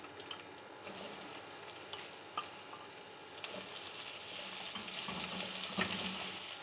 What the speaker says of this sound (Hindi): अब मैं इसमें शामिल करूँगी अदरक लहसुन।